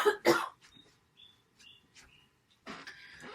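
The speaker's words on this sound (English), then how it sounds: "excuse me 1 minute, I got a cough" Two sharp, close coughs in quick succession, followed by quiet with faint bird chirps and a brief rustle at the end.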